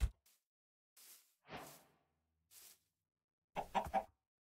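Minecraft chickens clucking in short separate bursts, a few soft clucks and wing flaps spaced across the moment, ending in a louder cluster of clucks, over an otherwise silent game background.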